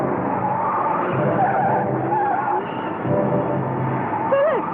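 A car skidding out of control on a road in a 1960s horror film, a steady loud engine and tyre roar with wavering squeals, ending in a sharp rising-and-falling tire screech.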